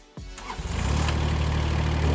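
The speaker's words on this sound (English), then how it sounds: "And we start the engine." A RoboCOMPACT remote-controlled vegetation mulcher engine cranks briefly and catches, quickly settling into a steady, close, even idle.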